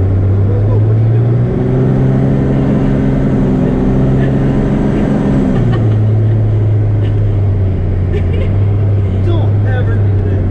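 Twin-turbo Cummins diesel truck floored with the brake held on: a loud, steady low drone with turbo whine that climbs in pitch, then drops back to a lower steady tone as the throttle eases, with faint voices underneath.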